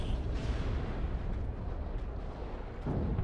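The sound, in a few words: lascannon shot in Dawn of War 2 video game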